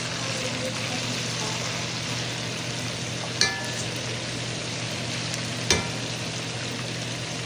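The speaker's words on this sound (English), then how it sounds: "we're basically kind of just cooking it at its own fat" Pork belly adobo sizzles steadily in its own rendered fat, a loud, even frying hiss throughout, broken by two brief sharp clinks of a utensil.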